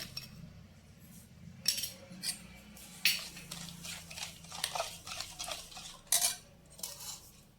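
A metal spoon clinks and scrapes against a bowl as black salt and white salt go into oil for mango pickle, several sharp separate clinks scattered over a quiet background.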